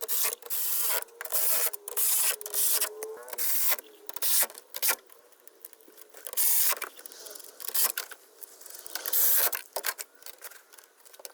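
A ratchet tightens the bolts on a BMW 528e tail light in bursts of rapid, close, dry clicking. The bursts are separated by short pauses and keep repeating for about eleven seconds, with no talking.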